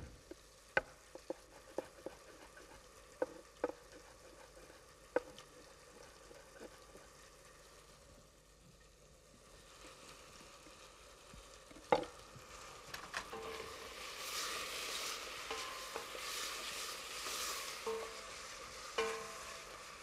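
Onion frying in a pan, a quiet steady sizzle punctuated by sharp clicks of a utensil, swelling into a fuller, louder hiss toward the end.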